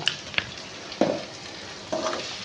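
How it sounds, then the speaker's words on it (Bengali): Spices for a boal fish curry are stirred in a hot pan, with soft sizzling broken by three or four distinct spatula scrapes, close and fairly quiet with no talk. "এবার আমি এটা একটু একটু নেড়ে নেব ভালো করে মশলাগুলো মিশিয়ে নেব"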